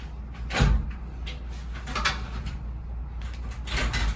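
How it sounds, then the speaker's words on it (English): A glass shower door slid and pushed into its metal track during a DIY install, giving a firm knock followed by softer scraping and sliding bumps at close range. "So now we're just going to take this door and push that inside this track"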